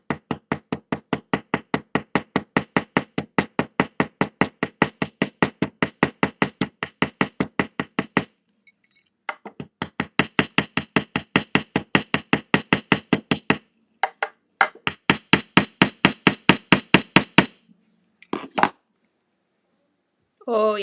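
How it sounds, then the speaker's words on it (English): A jewelry rivet is hammered down in steady, rapid metallic taps, several bursts of regular close strikes separated by short pauses, with a brief final cluster of blows. "And then we're going to hammer this down."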